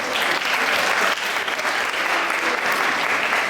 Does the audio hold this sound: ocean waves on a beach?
no